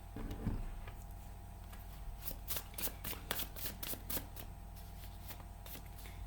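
Rapid crisp tarot card shuffling, a run of fast ticking flicks over a quiet background hum, fairly faint and close.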